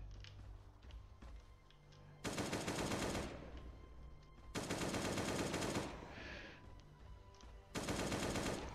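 AK rifle fire in the video game Last Day On Earth: Survival, three long bursts of rapid automatic shots separated by quieter gaps of game background noise.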